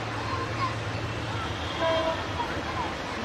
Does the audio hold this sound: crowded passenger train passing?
yes